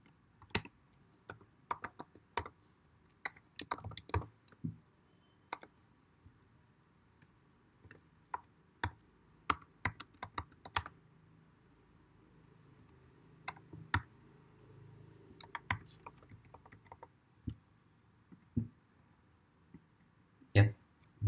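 Keys clatter on a computer keyboard as code is typed, bursts of sharp clicks with short pauses, fairly close, with talk over parts of it.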